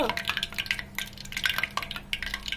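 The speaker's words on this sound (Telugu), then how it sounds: "బాగా నురుగులు వచ్చి బాగా హీట్ అవుతుంది కదా బాగా మరిగింది" Homemade hair oil with aloe vera bubbling hard in a pot on the stove, with a continuous busy crackle and pop of frothing liquid, close and fairly quiet, with no talking.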